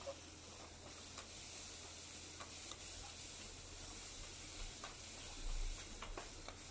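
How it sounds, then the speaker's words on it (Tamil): Tomatoes sauté in a pan for prawn thokku, with a steady soft sizzle and hiss, occasional stirring scrapes and a low background hum, with no one talking. "அது பாருங்க, தக்காளி தோல் வர வரைக்கும் நல்லா வதங்கிடுச்சு."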